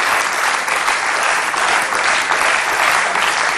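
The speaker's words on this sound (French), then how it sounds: "Oui, on peut l'applaudir" A television studio audience applauding, dense and loud continuous clapping from a crowd throughout, close and unbroken.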